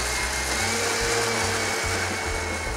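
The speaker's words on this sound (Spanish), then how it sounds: "dos cuadritos de mantequilla y ahora sí, lo vamos a licuar perfectamente bien" A kitchen blender purees a cooking sauce with two small cubes of butter added, a loud, steady motor whir running the whole time with slight shifts in pitch and no talking.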